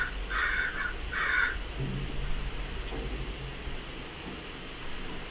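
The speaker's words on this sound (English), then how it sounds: "I'm listening to the crowing going on." Crows cawing outdoors, two clear bursts of harsh calls early on over a constant hiss of background noise, then only the noise.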